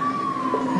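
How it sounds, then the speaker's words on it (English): An ambulance siren holding a steady high wail, fairly loud and continuous, with no talk over it. "So, the ambulance is here."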